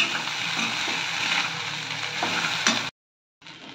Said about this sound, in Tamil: வேக வச்ச ராகி சேமியாவை போட்டுக்கலாம். மெதுவா கிளறி கொடுத்துக்கணும்.